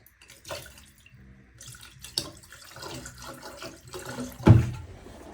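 Antifreeze splashes and gurgles into a shower drain in short bursts, ending with a louder glug, heard close up with no talking.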